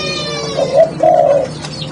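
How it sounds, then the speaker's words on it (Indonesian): A soft, low turtle dove coo in two short phrases, the second longer, close by over a steady background hum. "kalau melihat burung betina biasanya dia cenderung bekur ya"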